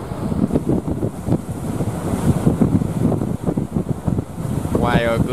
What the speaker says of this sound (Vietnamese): Hôm nay trời gió nam nên biển khá là sóng